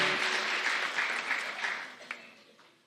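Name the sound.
audience applause at pageant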